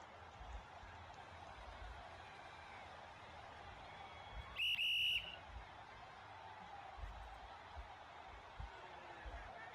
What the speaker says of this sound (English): In which the whistle's finally blown.